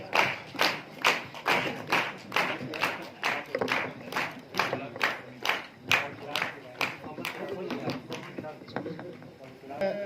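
A small crowd at a school celebration claps for a student, a run of uneven handclaps and thumps, moderately close, with voices talking over the applause.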